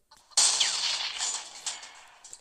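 Tank gun firing in Roblox WW2 Tank Simulator at a German base, a sudden sharp blast followed by a long noisy decaying boom with no talk.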